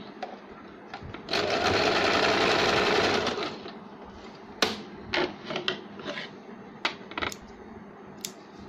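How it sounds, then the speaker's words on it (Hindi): A sewing machine stitches a folded seam on a saree blouse in one close, buzzing run of about two seconds, followed by scattered clicks and handling knocks. "इसे हम थोड़ा फोल्ड करके सिलाई लगाएंगे।"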